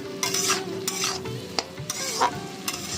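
Vegetables and egg stir-fried in hot oil, a steady sizzle broken by repeated scraping strokes of a spatula against the pan, close and fairly loud with no voices.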